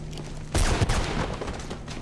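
In a Mirror's Edge cutscene, a sudden volley of gunfire breaks out after a quiet start: a loud cluster of close shots followed by scattered, fading reports.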